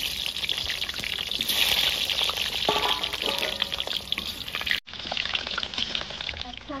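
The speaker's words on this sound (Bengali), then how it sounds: "আর লাগবে তেল, এই আলুটা ভেজে নেবো, আলুগুলো ভেজে নেবো।" Potato pieces fry in hot oil with a steady, dense crackling sizzle close by, broken by a brief cut before the frying continues.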